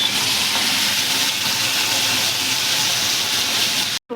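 Red chili chutney hits hot oil already tempered with asafoetida, ready for seasoning potatoes for bateta bhungla, giving a loud, steady hiss and sizzle that runs unbroken for about four seconds before cutting off abruptly.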